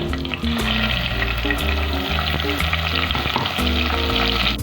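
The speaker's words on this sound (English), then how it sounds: "While the masala is getting roasted" Masala and jeera roast in cow's ghee for dal dhokli with a continuous, fairly loud frying sizzle, overlaid by background music.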